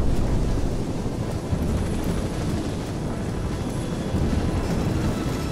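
A helicopter roars in the shooter Call of Duty 4: Modern Warfare Remastered, a loud, steady rotor-and-engine rumble that fills the scene continuously and close by, with no clear speech over it.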